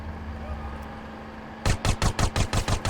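Burst of rapid gunfire aimed at the player in GTA San Andreas, about nine sharp evenly spaced shots that start suddenly after a quieter stretch of engine hum.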